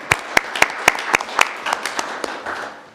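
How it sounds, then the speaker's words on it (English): Applause at a city council meeting, a short burst of separate, fairly sparse claps from a small audience that thins out and fades over a few seconds. "att Carlson served 4 years on Public Safety, so another applause for him."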